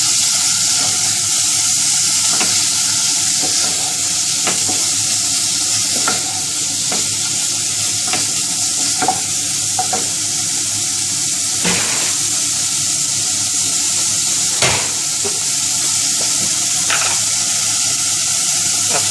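Keema mince with crushed red chili sizzles in a pan while being stirred, a steady frying hiss punctuated by regular scraping strokes and occasional clinks, with no talking.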